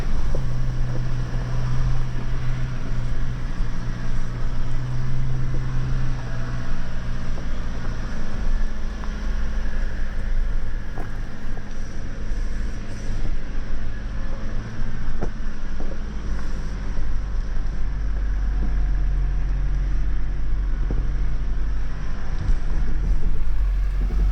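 A 2025 Toyota LandCruiser Prado Altitude grinds off-road in a loud, steady engine drone with a low rumble, mixed with wind buffeting the microphone all the way through.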